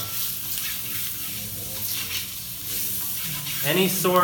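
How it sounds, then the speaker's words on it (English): Potatoes sizzling in hot ghee with turmeric, a steady close crackle of frying with brief stirring clatter near the end and no talking. "You just stir that turmeric into the ghee and immediately add your potatoes"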